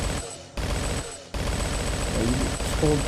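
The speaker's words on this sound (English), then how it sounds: "Because I pick up a minigun, and all these zombies are supposed to spawn and rush you while you have the minigun." Rapid minigun fire in the video game Last Day on Earth as zombies rush in, a dense continuous rattle broken by brief gaps, with faint tonal game sounds layered over the shooting.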